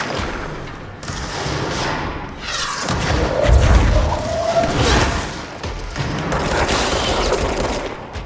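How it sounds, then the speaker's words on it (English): Rocket blasts and gunfire from an enemy in the shooter game Control, heard as dense booming bursts and rattling shots layered together in a loud, continuous firefight. "that dude was shooting rockets"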